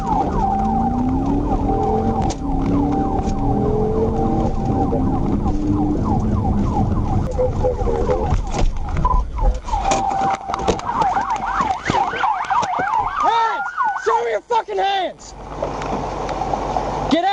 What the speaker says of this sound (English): Butcher activated his siren and advised ASP Troop A dispatch that he was in pursuit.